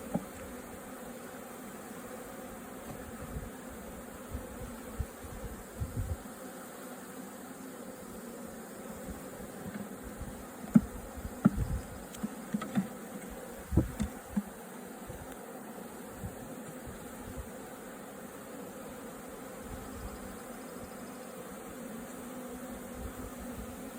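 A caught honeybee swarm in a hive box, with some comb already built, gives off a steady low buzzing hum through the whole stretch, and a few brief knocks and thumps rise above it midway.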